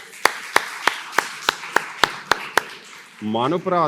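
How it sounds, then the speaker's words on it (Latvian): At the opening of the Latvian circular economy forum 2025, about nine sharp claps land at a steady, evenly spaced rhythm, and a voice begins speaking right after them. "Sirsnīgs paldies, aplausi jums."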